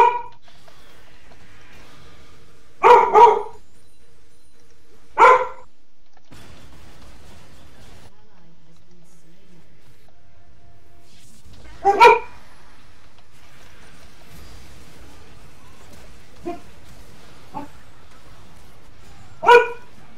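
Puppy barking in a quiet room during a League of Legends game, a handful of short sharp yips spaced several seconds apart, with soft whimpers between them.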